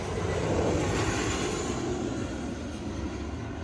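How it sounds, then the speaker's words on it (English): A jet airliner flying low overhead near the airport beside a Montego Bay resort, a loud continuous engine roar that holds steady and slowly fades slightly, with no voices. "you can definitely hear and see airplanes really close to the resort all day long"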